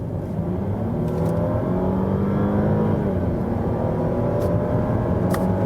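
Audi A8L sedan in dynamic mode accelerating hard from 60, a steady, loud engine drone with rising harmonic tones under constant road and wind roar, no one speaking.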